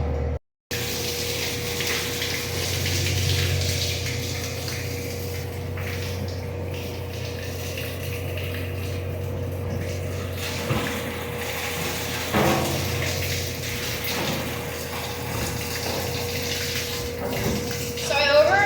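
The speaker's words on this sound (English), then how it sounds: "I'm gonna fill it up to there with water, and it has to be warm water" Warm water runs from a tap into a bottle for feeding milk on a farm, a steady broadband gush lasting throughout with a low hum beneath, fairly close, while a person talks over it.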